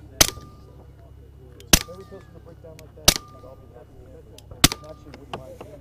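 Four suppressed rifle shots from a 45-70 fitted with a SilencerCo suppressor at an indoor trade-show range, sharp spaced cracks about one and a half seconds apart over background chatter.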